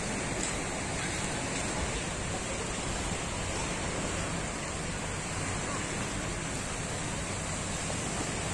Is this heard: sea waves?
yes